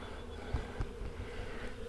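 Honey bees buzz steadily around a hive box, a dense continuous drone close by with a few slight bumps in loudness.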